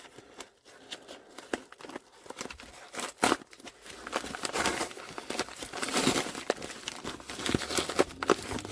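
A taped-up package of model airplane parts being torn open by hand, with crinkling packaging and tearing noises, a few sharp rips and a longer rustling stretch that grows louder.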